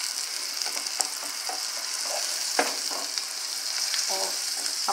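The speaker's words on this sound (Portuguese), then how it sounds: "agora a gente vai dar uma douradinha, né, na mortadela" Mortadella browning in a pan with margarine gives a steady, bright sizzle throughout, broken by faint scraping taps from stirring.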